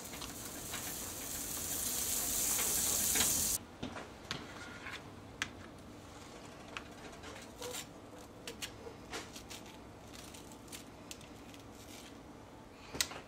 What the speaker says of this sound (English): we used real butter on both the griddle, and we're going to use it on the toast.